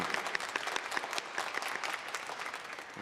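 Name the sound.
church congregation applauding visitors as a blessing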